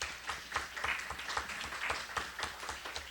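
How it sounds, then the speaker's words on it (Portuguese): Audience at a history of science and technology congress at USP claps in a short, fairly faint burst of applause with scattered individual hand claps. "Transmitiremos ao professor os aplausos."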